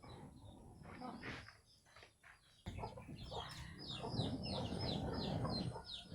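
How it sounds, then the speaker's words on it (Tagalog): Chickens cluck and squawk nearby in a busy, outdoorsy yard, with repeated calls rising toward the end and some faint voices mixed in. "tawagan ng mga manok ko"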